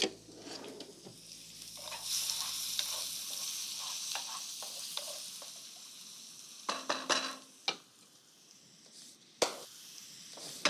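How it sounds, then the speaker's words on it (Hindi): Finely chopped onion sizzles in hot oil in a pan, a steady, hissing fry with a few sharp clinks and scrapes of a utensil against the pan partway through. "तेल में ये बारीक कटा प्याज"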